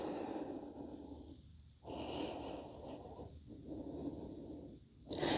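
Slow, deep yoga breaths drawn in and released during a stretching flow, several long steady inhales and exhales close by with short pauses between, and no talking.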